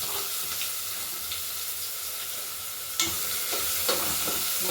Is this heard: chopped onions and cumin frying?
yes